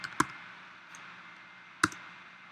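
Two sharp, quiet computer mouse clicks sound over a faint steady hum, spaced well apart in a quiet room.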